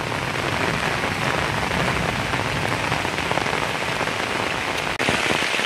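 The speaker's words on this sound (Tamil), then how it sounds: "மழை கொஞ்சம் கூடவா பெய்யுது" Heavy rain pouring down outside a Hindu temple in Jaffna, a dense, steady hiss of drops hitting surfaces, loud and unbroken throughout.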